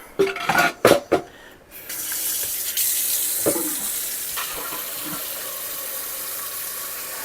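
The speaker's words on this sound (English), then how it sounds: "And now I'm just going to fill them with some hot water." Hot water runs from a tap into staggered canning jars for strawberry jam, a steady close pour that follows a few sharp clinks of glass at the start.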